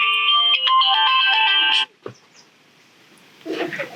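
A phone ringtone plays a bright electronic melody for about two seconds, cuts off, and then some rustling follows in a quiet room.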